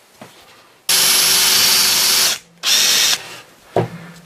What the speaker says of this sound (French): pour passer la lame, il faut commencer donc par faire un trou